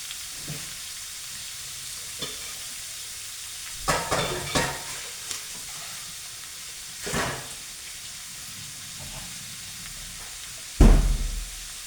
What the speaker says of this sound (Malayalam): നമുക്ക് ഇതിനകത്തോട്ടിട്ട് വറക്കാം.